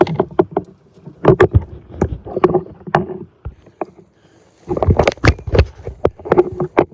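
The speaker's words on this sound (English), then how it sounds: "You get up on the log, you position yourself, you pull the boat up over, you get back in it, you continue paddling." A boat is paddled along a river, with close, rhythmic paddle strokes and splashes that pause briefly midway before resuming in a steady cadence.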